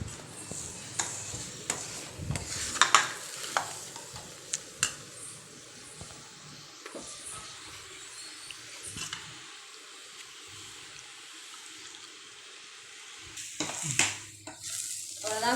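Moong dal and rava sweet being stirred and fried in ghee in a pan, with scraping strokes, soft sizzling and occasional clinks of the spoon against the vessel, close and steady throughout.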